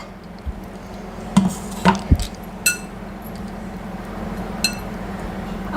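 Cashew biscuit ingredients are stirred together in a bowl, with a few sharp clinks and scrapes of a spoon against the bowl over a low steady background hum, close and sparse, with no talk.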